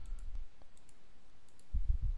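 Computer mouse clicks sound as faint, scattered ticks over a quiet room, followed by a brief cluster of low, thumpier clicks near the end.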